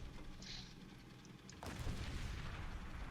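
Tank cannon fire in a War Thunder battle replay: a single distant boom breaks through a faint low ambient hum and leaves a rumbling tail.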